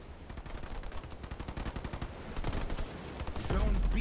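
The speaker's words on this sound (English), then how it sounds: "I'm under fire from enemy air units." Rapid gunfire from a Halo Wars 2 Blitz Firefight battle, a dense rattling stream of automatic shots and impacts with game effects layered throughout, growing heavier near the end.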